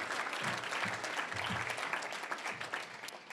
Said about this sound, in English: I want you to give a big round of applause to my wife, Lori